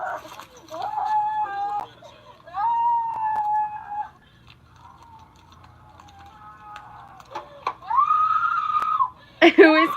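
In police body cam footage, a woman being arrested lets out long, shrill, wavering screams and wails, moderately loud and slightly distant, along with faint background noise and brief clicking.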